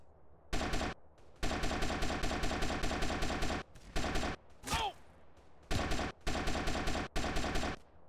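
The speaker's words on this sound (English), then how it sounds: "Even the fucking pump shotguns are fucking outrageous." Rapid bursts of pump shotgun gunfire in a gangster-mod video game during a turf takeover, loud repeated volleys in quick rhythmic runs separated by short gaps, with a brief whooshing sweep near the middle.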